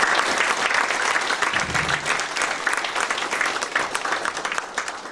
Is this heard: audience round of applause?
yes